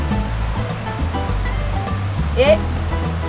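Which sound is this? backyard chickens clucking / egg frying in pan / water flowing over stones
water flowing over stones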